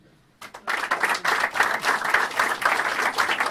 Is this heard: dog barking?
no